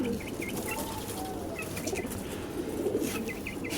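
Pigeons flap their wings in a loft, giving soft, fluttering bursts with faint coos and chirps mixed in, all fairly quiet and close by.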